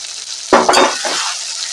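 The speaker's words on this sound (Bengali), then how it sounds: "এবার এর সঙ্গে দিয়ে দেব এই কাঁচা লঙ্কা" Green chilies drop into tomatoes frying in a pan, setting off a sudden loud sizzle with stirring that keeps crackling steadily afterward, close up with no voices.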